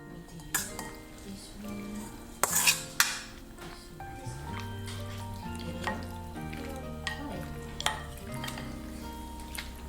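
Noodles stir-fry in a hot pan for creamy spicy peanut noodles, with continuous sizzling broken by sharp metallic scrapes and clinks of a utensil against the pan, close and moderately loud.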